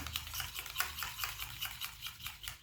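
A spoon stirs baking soda face pack paste in a small bowl, scraping and clinking in a steady, quick rhythm of close, bright strokes, with no talking.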